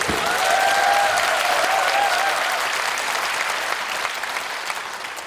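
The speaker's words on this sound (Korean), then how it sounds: "박수 소리가 좀 좋아요" A large audience at a political party's parliamentary report meeting applauds in a loud, steady wave that slowly fades, while a voice speaks briefly over the start.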